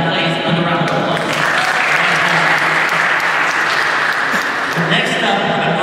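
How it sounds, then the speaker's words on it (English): An audience at a Bronx LGBTQ Center event gives a loud, dense round of applause that carries on unbroken for several seconds. "Now please, another round of applause."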